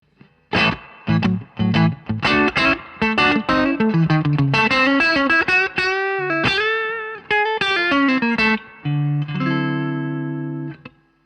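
An electric guitar recorded through a Shure SM57 microphone plays a melodic distorted phrase of picked single notes and short runs, loud and close, ending on a sustained held chord.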